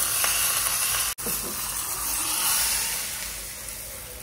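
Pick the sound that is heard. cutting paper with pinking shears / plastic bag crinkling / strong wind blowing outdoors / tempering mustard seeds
tempering mustard seeds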